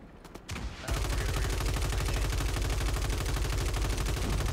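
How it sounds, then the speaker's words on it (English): Rapid automatic gunfire in a video game, loud and continuous with an even machine-gun rhythm that starts after a few brief isolated shots and keeps hammering without pause. "Keep shooting that goddamn thing."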